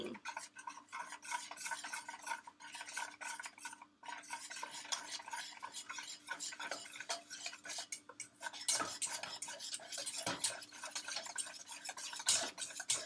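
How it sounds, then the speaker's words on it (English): Homemade Play-Doh mixture, still runny, is stirred continuously in a pan. Close, rapid scraping and clicking of the utensil runs throughout at low volume, with brief pauses. "It's still kind of liquidy, so I got to keep mixing and mixing"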